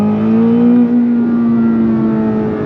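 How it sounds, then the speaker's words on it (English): Chevrolet Corvette C8 ZR1 revving while parked with both paddles pulled, a loud, close, sustained engine drone that holds a high steady pitch, dips slightly and settles, with no talking. "you pull in both paddles and now you could rev without going anywhere"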